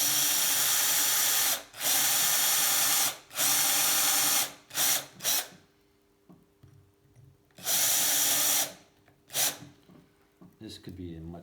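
A power drill bores pilot holes in a vintage Atala bike frame, whirring in several loud bursts of a few seconds each, separated by pauses, with brief faint breathing and handling noise between runs.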